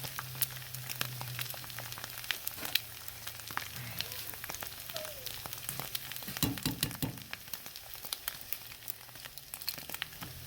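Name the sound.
eggs added to frying chorizo in a pan, sizzling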